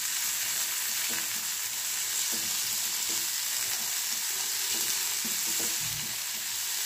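Tomato, ginger and green chilli fry in a pan for scrambled eggs, a steady close hiss of sizzling oil with soft scraping stir strokes now and then, no voices.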